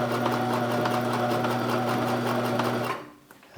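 A Sears Kenmore sewing machine sews a triple straight stitch in a steady, loud, close hum for about three seconds before it stops abruptly, with no talking.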